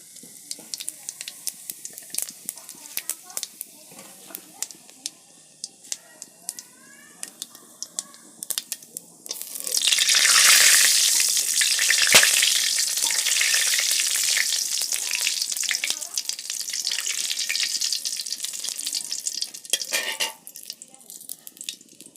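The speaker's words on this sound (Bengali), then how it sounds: "তেল চলে এসছে তো এখন সম্বারাটা দিয়ে নিই তেজপাতা শুকনা লঙ্কা সাদা জিরা" Bay leaf, dried red chilli and cumin seeds hit hot oil for a potato curry tempering, giving a loud surging crackle and hiss that flares up midway and settles into steady frying, with scattered clicks of cookware and a voice speaking before it.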